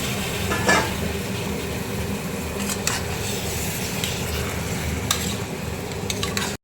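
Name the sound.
mutton added to spiced pan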